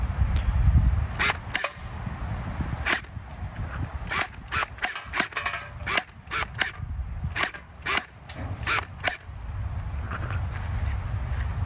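A Gel Blaster Surge fires in semi-auto, giving sharp single pops in an irregular close rhythm with brief pauses between shots and faint handling noise, no talk.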